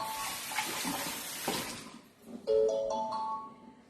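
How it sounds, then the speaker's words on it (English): Hands being rinsed under a running tap in a kitchen while a roast chicken is prepared, a steady close wash of water splashing for two seconds, then a brief electronic chime tone over fainter trickling. "Just wash my hands in here."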